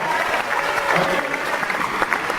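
Audience applause at a live show, a steady burst of many hands clapping that fills the room with scattered individual claps standing out.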